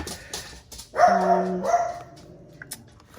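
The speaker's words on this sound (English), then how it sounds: "anytime somebody goes by to with an animal or by themselves, they just have to bark" A dog behind a backyard barks a short burst of several sharp, tonal barks in the middle, moderately loud and a bit distant, between quieter indoor sounds.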